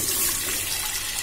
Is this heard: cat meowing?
no